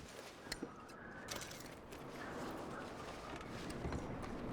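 Horse hooves clip-clopping in the Red Dead Redemption 2 video game, a few faint hoof knocks early on, then a soft steady rumble of movement, quiet and somewhat distant.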